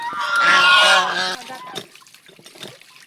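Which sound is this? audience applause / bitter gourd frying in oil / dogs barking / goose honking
goose honking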